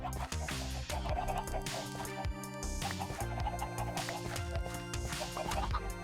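Minecraft chickens in a pen in the Create mod cluck softly and intermittently, faint beneath a steady bed of loud, busy background music.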